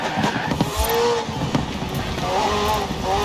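Racing engine of a McLaren P1 GTR hybrid supercar with twin-turbo V8 in Forza Horizon 4, a steady loud roar with rising and falling pitch sweeps as it revs through gears, close and continuous for the whole stretch.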